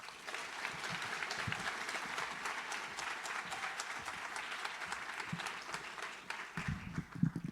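Audience applause welcoming a speaker to a pro bono recognition ceremony: many hands clapping in a steady, sustained wash that fades toward the end as faint voices and movement begin.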